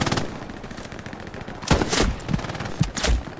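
Gunfire in the World War II shooter Hell Let Loose: scattered sharp rifle and machine-gun shots crack through a busy battlefield, with a few loud bursts standing out near the end over constant background clatter.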